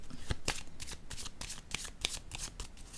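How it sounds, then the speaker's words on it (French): Tarot cards handled on a table during a reading, with a quick series of crisp card flicks and snaps in an irregular shuffling rhythm, close and fairly quiet. "Je vais déposer une carte"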